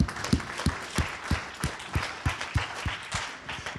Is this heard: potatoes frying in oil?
no